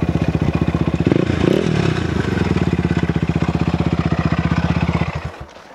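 An ATV fitted with concrete cutting wheels runs with a rough, rhythmic engine chug and clattering, grinding noises, then winds down near the end.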